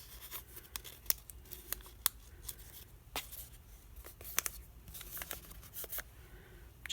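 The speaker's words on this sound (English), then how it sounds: "Just going to cut that off a little bit." Scissors cutting paper for a craft quote easel, a series of close, crisp snips and rustles spaced irregularly at moderate loudness, with no talking.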